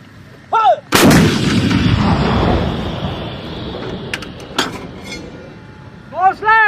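US Marine artillery gun fired by lanyard during a joint drill with Filipino forces: one sharp, very loud near blast followed by a long rolling rumble that fades, with shouted commands before and after.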